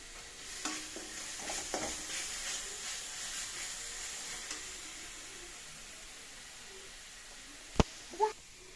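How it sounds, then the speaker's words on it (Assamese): Tomato paste frying in a pan, a faint, low simmering sizzle with soft stirring scrapes early on, then two sharp knocks near the end. "বিলাহী পেষ্ট এতিয়া এইখিনি সম্পূৰ্ণকৈ ভাজি আছোঁ। ভাজি ৰঙা কৰি লৈছোঁ অকণমান।"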